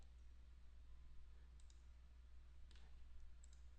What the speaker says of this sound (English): I'm going to press and hold Alt and click Remesher